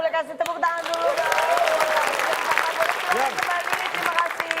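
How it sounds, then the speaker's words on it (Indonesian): A studio audience breaks into applause, bursts of clapping mixed with cheering voices and lively chatter from the hosts over the top. "kita boleh kasih tepuk tangan dulu dong."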